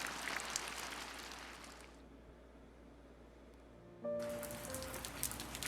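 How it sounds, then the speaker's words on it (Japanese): Steady rain falling in a sheltered outdoor spot, a broad continuous hiss throughout that dips briefly in the middle before returning at full strength, with no voices. "ぼんやり雨の降るのを眺めていた"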